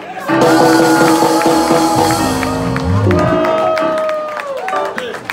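A crowd at a live kompa concert applauds a singer with steady clapping and cheering that runs throughout, mixed with loud babble and music.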